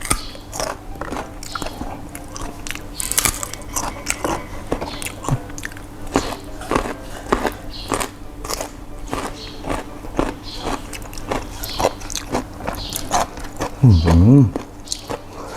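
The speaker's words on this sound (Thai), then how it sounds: "กัดพริกกระเทียมได้นะ" Braised pork leg with chili and garlic is bitten and chewed right up close, making continuous wet, squishy chewing with occasional soft crunches, and a brief murmured sound comes near the end.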